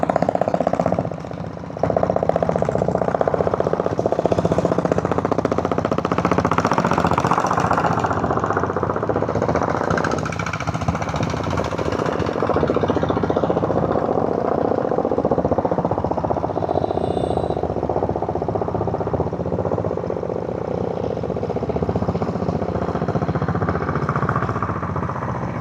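A diesel Bullet motorcycle engine runs loud and close throughout a hill climb toward Yercaud, its steady knocking thump continuous with no speech over it.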